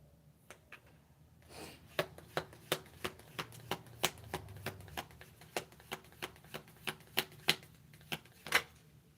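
Tarot cards being shuffled, with a rapid, fairly even run of crisp riffling snaps that are close and clear, quieter at first and then steady throughout, with no voices.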